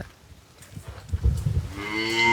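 A dairy cow offered for sale moos at a livestock market, one long, loud, near low bellow that rises into a drawn-out tonal call at the end, with rustling background before it.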